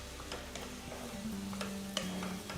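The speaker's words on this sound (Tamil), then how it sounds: "வெங்காயம் நல்ல பொன்னிறம் ஆற வரைக்கும் வறுக்கணும்." Onions sizzling in hot oil with a steady frying hiss, broken by occasional sharp scrapes and clinks of a spoon stirring the pan.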